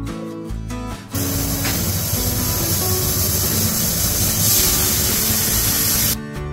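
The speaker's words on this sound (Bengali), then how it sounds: "প্রেসার কুকারে দিয়ে আমরা মোটামুটি 3টে থেকে 4টা সিটি দিয়ে নেব।" A pressure cooker steaming banana flower rubbed with turmeric and salt lets out a loud, continuous steam hiss that starts abruptly, holds steady for about five seconds, then cuts off.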